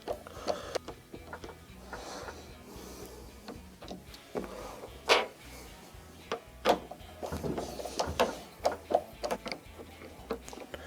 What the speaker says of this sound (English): on the bottom portion we have two Phillips screws that will need to be taken out